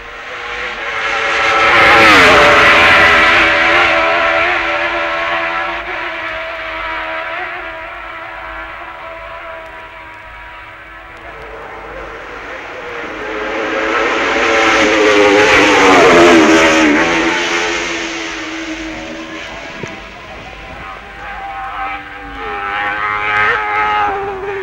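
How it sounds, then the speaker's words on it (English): A Honda racing motorcycle at the 1966 Isle of Man TT howls past at high revs, swelling loud as it nears and fading away, then a second loud rise and gear changes as it rounds a corner on the road course. "Here's the Honda starting the quickest lap ever done in the islands, hurtling over Belig Bridge and rounding signpost corner."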